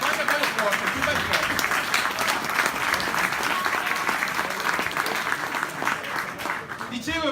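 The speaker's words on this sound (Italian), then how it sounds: "un doveroso applauso di ringraziamento a Stefano Fracasso" At an Italian Democratic Party political rally, the audience keeps up a long, vigorous round of clapping in thanks to Stefano Fracasso, steady and loud before easing slightly at the end, with some voices underneath.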